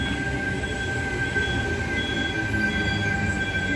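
Sydney train sets T69 and T70 standing at platform 4 at Kogarah, with a steady rumbling station hum and a faint high whine running throughout.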